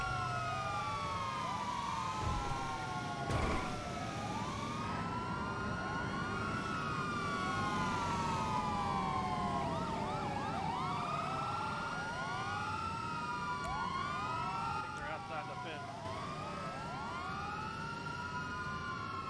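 Several emergency vehicle sirens wail and yelp continuously, overlapping rising and falling tones over steady traffic rumble, loud and close throughout with no talking.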